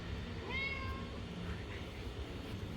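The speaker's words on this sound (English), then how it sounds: "You want to say hi to my cat" A pet cat gives a single clear, close meow, short and rising, over quiet room background.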